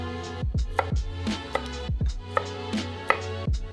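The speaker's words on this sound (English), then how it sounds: "from those little florets, we just want to go through and cut even smaller florets" A knife chops broccoli florets on a cutting board in quick, crisp strokes, each landing with a solid thud, loud and close with a steady rhythm and no talk.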